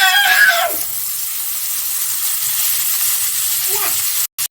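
Chopped tomato hits a hot pan for a Bengali fish curry with new potatoes, giving a loud, steady sizzling hiss close up that carries on without a break until a brief cut at the very end.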